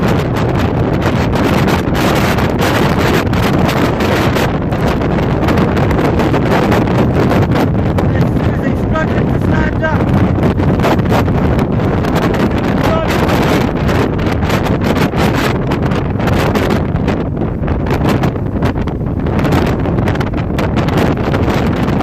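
Strong wind batters the microphone on a wet, windy Welsh mountain, a loud unbroken roar with constant gusting rumble and no pauses.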